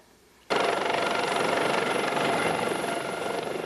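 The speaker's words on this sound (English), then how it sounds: "Pam was flown by Maryland State Police helicopter to the neonatal intensive care unit of Prince George's Hospital Center" A Maryland State Police helicopter starts up abruptly and holds a loud, steady rotor and turbine roar, close and continuous.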